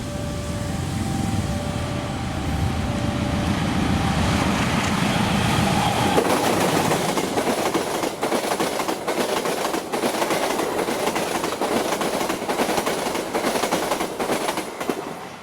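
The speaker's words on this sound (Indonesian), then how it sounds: "Barusan lewat kereta api Airlangga 7050A." The Airlangga 7050A passenger train rushes past with a loud, steady roar of wheels on rails, shifting into rhythmic clickety-clack as the carriages go by.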